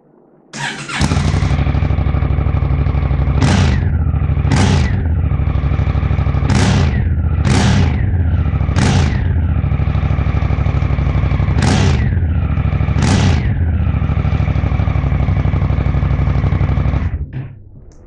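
A Honda Africa Twin motorcycle with a modified exhaust and altered spark arrestor starts up and runs loud and close, idling with a steady throb punctuated by about eight sharp throttle blips, then shuts off.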